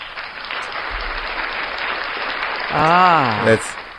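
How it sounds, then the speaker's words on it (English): Studio audience applause for sponsor Valley Drug on a radio morning show, a steady wash of clapping under a host's voice, with a brief tonal sweep near the end. "Let's give them a round of applause"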